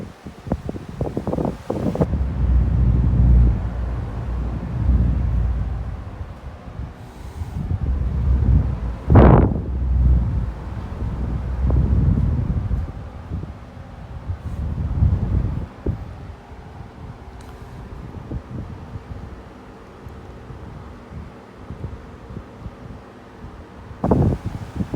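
A brown Xpelair Taurus T12 12-inch desk fan runs with a steady airy whoosh and low rumble, buffeting the microphone with gusty surges and one sharp knock partway through.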